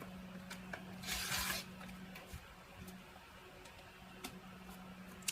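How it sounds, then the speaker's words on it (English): Fabric of a king size pillowcase being trimmed a quarter inch from the stitch line: one brief, close rasping cut early on, then faint scattered ticks over a low steady hum, quiet throughout. "we are trimming off 1/4 inch from our stitch mark"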